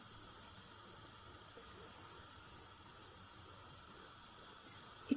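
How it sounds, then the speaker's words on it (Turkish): Steady sizzling hiss of lokma dough balls frying in hot oil, constant and fairly quiet, with a brief louder knock right at the end. "içine attığım lokma parçam kızarmaya başladı."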